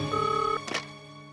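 An office telephone rings once, a short electronic ring burst followed by a brief clicking tail, heard close and on its own with no talk.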